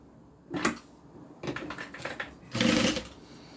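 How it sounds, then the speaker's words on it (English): A sewing machine stitches a bag gusset in three short bursts, each a quick whirring run of the needle, with the last burst the longest and loudest, all close by in a quiet room. "just sew these on and then open it up and do a top stitch"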